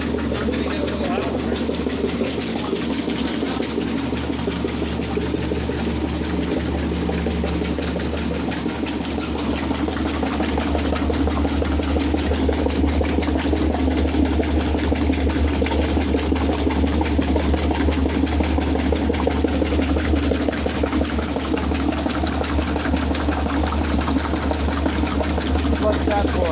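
A Frigidaire Rollermatic washing machine runs steadily through its wash cycle, a continuous low mechanical hum and churn with no breaks, while a person talks over it now and then.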